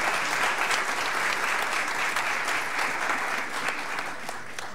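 A concert audience at a symphony orchestra's Criollo concert gives sustained, even applause, a continuous dense patter of many hands clapping with no voices.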